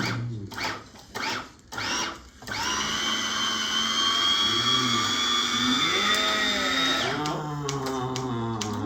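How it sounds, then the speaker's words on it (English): A brand new cheese grater works on cheese: a few short whirring bursts, then a steady high motorized whine that holds for several seconds before dropping to a rougher grinding rumble. "With our brand new cheese grater. Let's see if it works."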